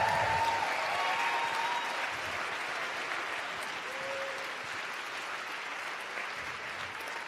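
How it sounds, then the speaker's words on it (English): An audience at an Ignite Seattle talk event gives sustained applause for the speakers, a continuous wash of clapping that fades slightly over several seconds. "Every speaker, get another round of applause."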